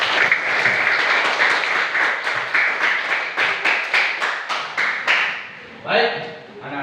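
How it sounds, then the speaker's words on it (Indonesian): A class of schoolchildren claps together in a rhythmic patterned cheer, many hands striking in quick repeated bursts that end in a final flourish, loud and close in the room. "Tepuk tangan dulu."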